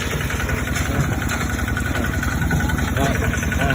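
A small Pem1408Pius walk-behind tractor engine chugs steadily at a rough, rhythmic idle, close and loud, with a voice speaking over it.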